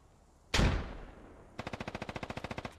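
Gunfire in a war video game: one loud, booming shot with a long decaying tail, then a rapid, evenly spaced burst of about fifteen sharp automatic rounds, close and clear.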